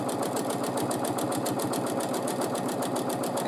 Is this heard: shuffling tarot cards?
no